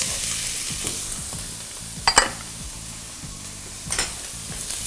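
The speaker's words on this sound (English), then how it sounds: "I'm gonna add some onion. Onion goes." Chopped onion sizzles as it fries in a pan alongside pork loin chops, a steady close crackle with a couple of brief louder stirring scrapes.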